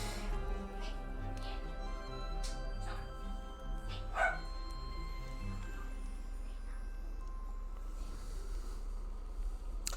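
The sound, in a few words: dog barking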